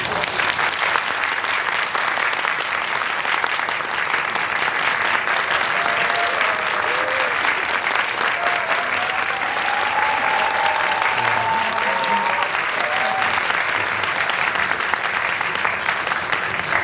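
Sustained applause from a film screening audience, steady and dense from start to finish, with faint whistles and murmurs mixed into the clapping.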